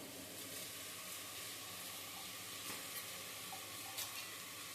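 Rice and moong dal frying in a pan for baby food, a steady close sizzle and hiss with faint stirring scrapes, no talking.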